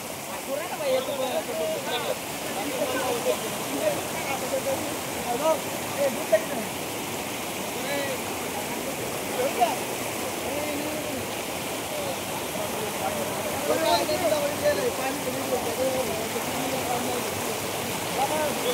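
Heavy rain pouring down at Palasgaon over farm fields, a dense continuous hiss of water with rushing runoff, steady and close throughout with no clear pauses.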